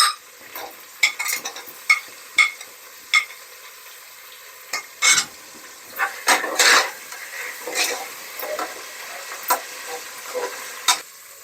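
Onions are added to a pan of hot oil with whole spices like cardamom, pepper, bay leaf, fennel, cinnamon and cloves for a rice dish. A steady soft sizzle runs under sharp, irregular clinks and scrapes of a spoon stirring against the pan.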